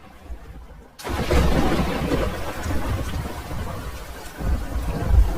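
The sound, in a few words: thunderstorm with rain in a cartoon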